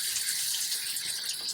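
Water runs steadily and fairly loudly from the shower faucet of a Forest River Wolf Pup RV while its lines are flushed during de-winterizing, a continuous hissing stream with no talk.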